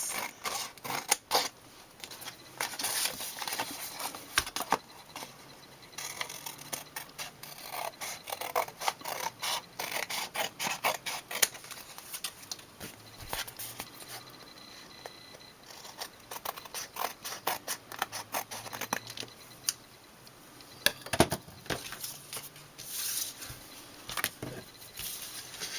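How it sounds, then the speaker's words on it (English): Scissors snipping around a paper card, bursts of short crisp cuts and rasping paper in uneven clusters with pauses between, close but quiet. "Now I'm going to take some scissors. I'm going to cut around it"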